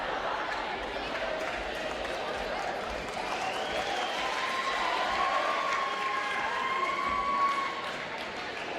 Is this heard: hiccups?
no